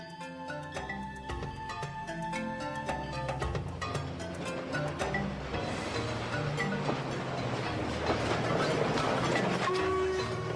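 A train rumbles steadily along the rails in Sri Lanka, occasionally climbing steep grades, with a continuous rolling clatter and mechanical whine, growing slightly louder and busier toward the end.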